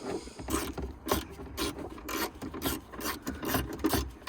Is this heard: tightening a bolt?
yes